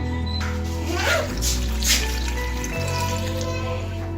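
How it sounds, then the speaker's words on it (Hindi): Water splashes and trickles steadily into a cooking pot of mustard greens for Punjabi-style sarson ka saag, a continuous close pouring sound with a low background hum. "अब हम इसमें ऐड कर देंगे 1 प्याली या 1 गिलास के करीब पानी।"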